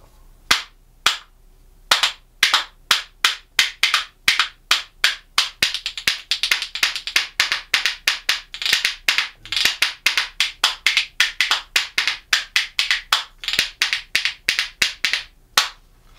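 A percussion spoon made of walnut wood dyed with an iron solution is tapped in a fast, steady clacking rhythm, close and fairly loud, with crisp, hard-sounding hits.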